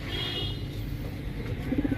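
Highflyer pigeons coo softly with a few low, repeated notes near the end over steady background rumble.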